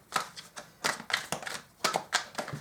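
Modern Witch tarot cards being shuffled by hand, a series of quick crisp riffling bursts in an uneven rhythm, close and fairly clear with short pauses between them.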